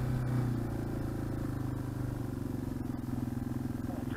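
A dual-sport motorcycle engine idles nearby on a wooded road, a steady throbbing rumble with rhythmic pulsing, and a few faint clicks over it.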